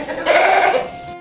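A single drawn-out goat bleat in a read-aloud children's story, loud and close, lasting about a second before cutting off.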